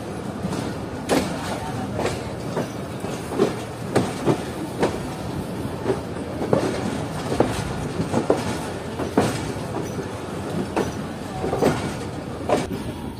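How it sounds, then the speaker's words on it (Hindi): The Pak Business Express runs along the line after leaving Khanewal Junction, heard from inside an economy-class carriage: a continuous rumble with a regular clickety-clack of wheels over rail joints at close range. "ट्रेन ने जो है वो डिपार्ट कर लिया है खानेवाल जंक्शन से"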